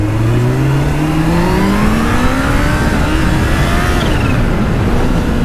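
A Kawasaki Ninja H2 motorcycle accelerates hard into a wheelie, its engine note climbing steadily in pitch, loud and close under wind rush, without voices.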